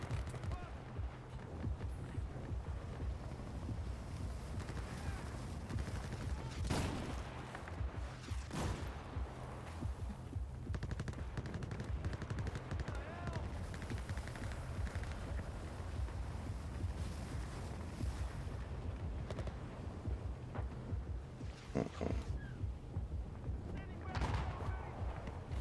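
Gunfire in the Battlefield 4 video game, with intermittent shots and a few sharper loud bursts over a constant rumbling wind-like battle background, and faint talk at times.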